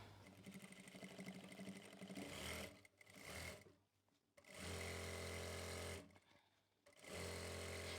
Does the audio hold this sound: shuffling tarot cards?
no